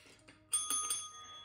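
A small bell rung for a savings challenge chimes in a few quick bright dings, close and clear, fading with a ringing tail.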